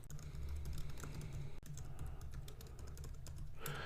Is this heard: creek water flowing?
no